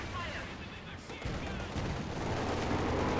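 Dense gunfire from a Company of Heroes 2 match, sustained bursts of machine gun fire and battle noise in a steady barrage, with a commentator's voice beneath.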